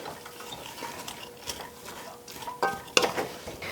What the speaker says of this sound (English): While the veggies are sauteing